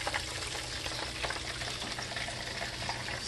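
Chicken pieces fry in hot oil, giving a steady, close hiss and crackle with small sputtering pops and no talking.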